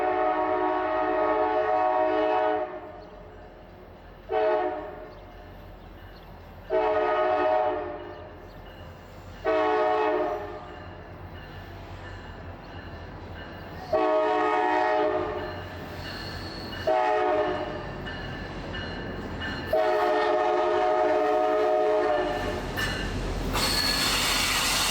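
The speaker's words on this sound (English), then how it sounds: "The CSX train wasn't too far behind." A CSX freight train sounds its horn in a series of long, loud blasts separated by short gaps, chord tones ringing over the low rumble of the passing cars, with the final blast held longest.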